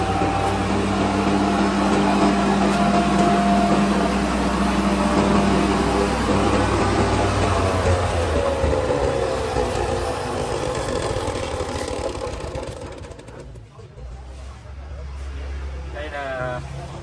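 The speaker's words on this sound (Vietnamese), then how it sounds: "máy băm dọn tất cả các loại cành tươi, cành khô có đường kính từ 1 đến 7cm ra dạng dăm nhỏ là tơi xốp đất." Takyo TK65 petrol-engine branch chipper shredding fresh and dry branches into small wood chips, a loud, steady engine drone with changing grinding tones. The engine drops and goes rougher near the end, and a voice talks over it.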